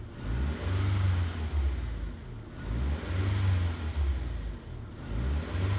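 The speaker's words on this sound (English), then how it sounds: "you gotta rev it up to 3K or between 2 and 3 a couple times" A Nissan S13's engine revs up twice to roughly 3000 rpm, each rise holding for a couple of seconds before dropping back toward idle. The engine is close and loud, and nobody speaks.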